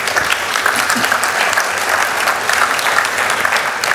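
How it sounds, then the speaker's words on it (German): Sustained applause from a sizable audience at a beekeepers' association meeting in Donaueschingen, dense steady clapping that holds at an even, fairly loud level from start to finish. "Ich finde, das ist ein extra Applaus wert."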